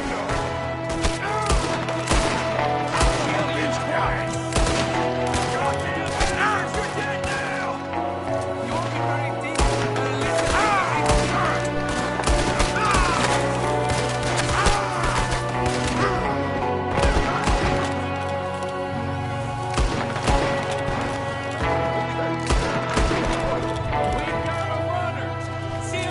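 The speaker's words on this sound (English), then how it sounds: "There's another one shooting from the window!" Gunfire in the video game Red Dead Redemption 2, with a window shooter among the attackers: dense, continuous volleys of shots mixed with horse hooves and a game score, with voices speaking over the action.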